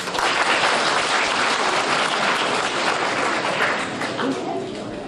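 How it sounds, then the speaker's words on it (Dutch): An audience at a concert gives sustained applause: a dense, loud wash of many hands clapping that fills the hall evenly from start to finish, with some voice underneath. "En dat vind ik toch wel een applaus voor het publiek."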